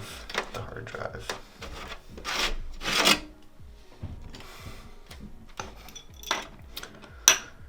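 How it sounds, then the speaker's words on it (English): Plastic scrapes and rubs as the hard drive is slid out of a PlayStation 4 during a fan repair, a series of short rasping scuffs and clicks. "and remove the hard drive"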